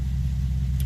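An Infiniti G37 fitted with a nitrous setup sits at a steady, loud low-pitched engine drone, a continuous rumble with no break or change over the brief moment.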